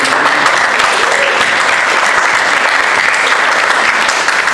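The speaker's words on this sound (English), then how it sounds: "Give Jody a round of applause" Audience applause at a church closing gathering, loud, dense and continuous clapping from a large crowd filling the whole stretch without a break.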